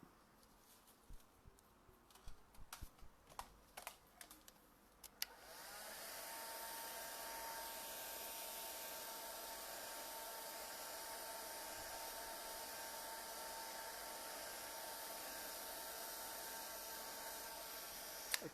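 After some light handling clicks, a hair dryer switches on and runs in a steady, loud whooshing hum, drying paint on a switch plate that carries a painted classic rose.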